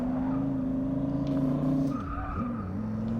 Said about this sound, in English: The car just wants to slide out from underneath you